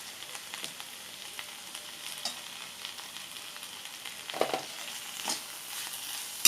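Steady sizzling of bajji chili peppers frying in a pan, with occasional scraping stirs and small clatters, close and moderately quiet.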